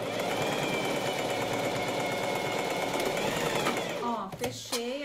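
Sewing machine stitching a blouse sleeve seam, a steady rapid mechanical whir that runs for several seconds, then stops, followed by brief speech.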